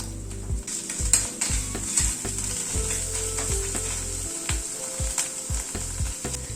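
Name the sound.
spice paste being fried and stirred in a pan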